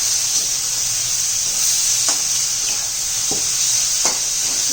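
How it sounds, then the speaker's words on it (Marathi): Tomatoes sautéing in a pan over cooked onions with salt: a steady, loud sizzle and hiss with a few soft stirring clicks and scrapes, and no voices. "मऊ होईपर्यंत चांगला टोमॅटो परतून घ्यायची आहे"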